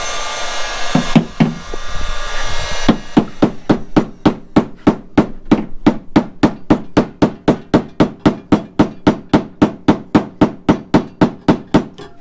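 A hammer taps steadily on a Foxbody Mustang fender lip being rolled, a long fast run of sharp metallic blows after a brief burst of tool noise at the start.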